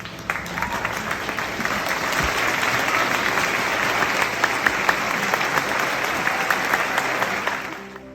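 At a university graduation ceremony, an audience claps together in sustained, even applause, a dense wash of hands heard throughout with no speech.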